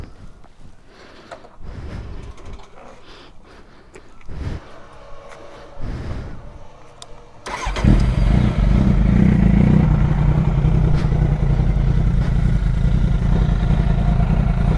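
A few mechanical clunks and short bursts, then a Kawasaki Z800 sport motorcycle engine cold-starts and settles into a loud, steady idle close by.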